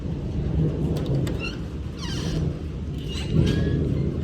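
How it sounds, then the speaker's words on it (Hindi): Light rain falls outdoors as a soft continuous wash of noise, with a low rumble of thunder beneath it and a few faint chirps rising briefly above the steady patter. "तो अभी बारिश लगना स्टार्ट हो चुकी है।"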